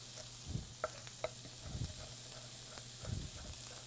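Bacon frying in a pan sizzles with a steady, close hiss, broken by a few soft bumps and scrapes as it is stirred.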